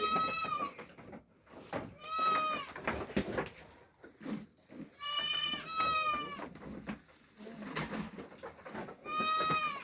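Several goats bleat loudly and close by, their wavering calls repeating every couple of seconds with short pauses between them.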